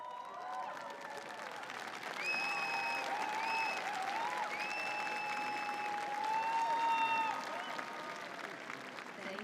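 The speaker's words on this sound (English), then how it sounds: "Graduates, may I request you to please stand and give a big round of applause to your family" Graduates applaud their families and friends at Ohio University's Spring 2023 commencement: sustained, dense applause from a large crowd in a big venue, with scattered whistles and cheers rising above it, swelling slightly midway.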